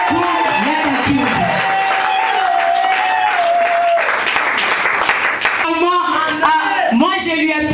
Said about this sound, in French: Est-ce qu'on peut acclamer pour Yada Kyungu?